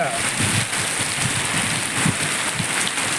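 Heavy rain driven by strong wind in the Salem area pours steadily, a dense loud hiss with gusty low rumbles and dull thumps throughout, close to the microphone.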